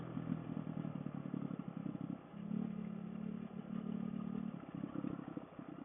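Kawasaki KLX450R dirt bike on a night trail ride near Lake Jocassee: a steady engine drone with rattling clatter, easing to a smoother lower hum midway before picking back up, heard from on board at moderate level.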